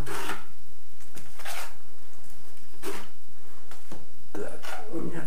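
Metal spatula scraping repeatedly over a tiled floor base above an underfloor heating element, a series of short rasping strokes with pauses between them, close and fairly loud.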